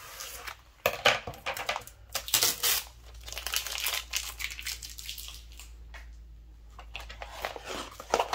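Crinkly transfer tape is crumpled and cut down to size for a Cricut home décor project, with close, irregular bursts of crackling and rustling, louder near the start and trailing off into soft handling noise.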